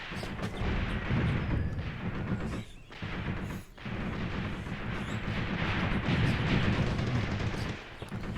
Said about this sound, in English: Right now, our boys are just using grenades against them.